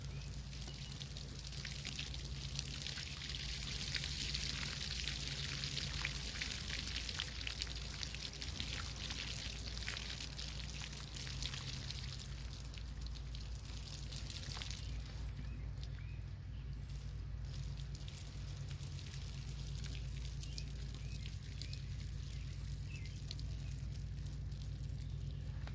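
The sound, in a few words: water poured off sand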